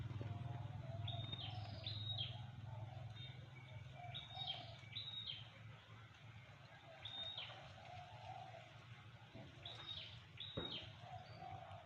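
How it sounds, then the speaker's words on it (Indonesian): Small birds chirp in short repeated bursts at a distance over a steady low rumble of wind or background noise. "suara burung ya yang sedang berkicau merdu ini"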